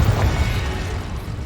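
A Confringo explosion spell goes off in the Hogwarts Legacy video game, a close, loud low rumbling blast with a few pops that then trails off.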